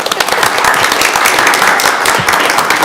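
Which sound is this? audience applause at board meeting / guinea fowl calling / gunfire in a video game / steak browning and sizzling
audience applause at board meeting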